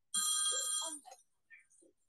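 Telephone ringing with an incoming call: one loud, bright electronic ring burst, close, followed by brief faint trailing tones and near quiet.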